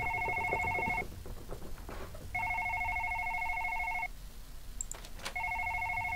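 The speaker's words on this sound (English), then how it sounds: "I don't know if you can hear the phone ringing, but it's definitely ringing." A phone rings in the video game Dream, three electronic ring bursts of about two seconds each separated by short gaps, over a low ambient hum and faint eerie background sound.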